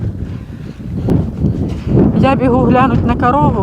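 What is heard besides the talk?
strong wind, wind noise on microphone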